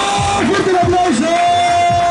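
Crowd at a freestyle rap battle in the DP Multiverse 2019 competition cheering, whooping and yelling loudly, with an MC's amplified voice over the noise and a music track faintly underneath.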